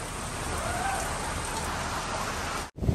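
Steady rain pours down at Matheran, a dense, even hiss that lasts throughout before a brief sudden cut near the end.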